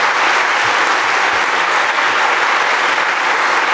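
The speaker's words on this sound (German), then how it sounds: "Da kriegt man aber immer Beifall, wenn man das sagt" Sustained, loud applause fills a hall during a political speech at the CDU NRW New Year reception, a dense, even wash of many hands clapping with no break.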